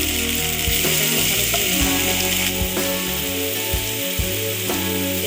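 Ginger-garlic paste hits hot oil with fried onions for a fish curry, giving a close, continuous sizzling hiss with occasional scraping knocks of a spoon against the pan.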